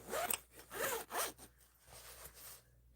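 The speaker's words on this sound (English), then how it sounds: "It zips up really easily." A zipper on a quilted zip bag drawn closed in several quick rasping strokes, close and fairly loud, then fading to a quieter slide at the end.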